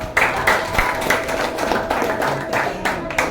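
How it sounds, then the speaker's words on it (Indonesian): A small group clapping in a quick, uneven rhythm, close by and fairly loud, lasting a few seconds. "beri tepuk tangan untuk kelompok 1"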